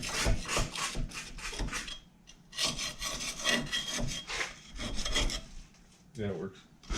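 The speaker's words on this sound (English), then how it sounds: "Just scraping all the grease off." Scraping grease off the rear brake backing plate of a Z28 Camaro, a steady run of rough, rasping scrapes in repeated strokes, close and fairly loud, with brief pauses between passes.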